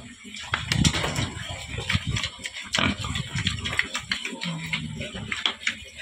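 Pigs grunt and oink in short, irregular bursts nearby on a farm, mixed with snuffling and shuffling noises and intermittent talk in the background.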